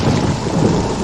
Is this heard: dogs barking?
no